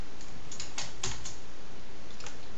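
Quick bursts of keystrokes on a computer keyboard, close and clear, a short run of clicks in the first second and a couple of lighter taps after, with no talking.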